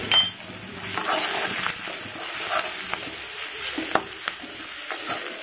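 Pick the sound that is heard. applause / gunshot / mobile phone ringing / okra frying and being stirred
okra frying and being stirred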